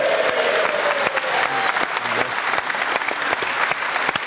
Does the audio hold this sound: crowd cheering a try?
yes